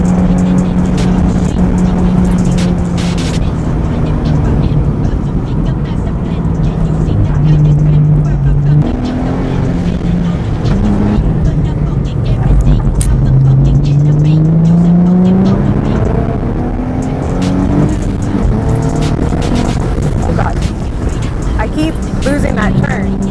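The Z1 600R twin-turbo prototype race car, with about 600 horsepower, is driven hard on a track. Its loud engine climbs and drops in pitch through the gears and corners, with a voice talking over the roar.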